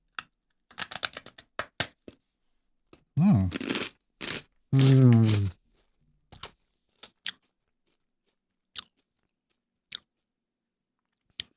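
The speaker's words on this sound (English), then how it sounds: "That's a 9 out of 10 crunch right there." Sweet, salty, soy-sauce-seasoned crunchy food bitten and chewed close up: a quick cluster of sharp crisp crunches, then sparse isolated clicks, with two brief bursts of speech in between.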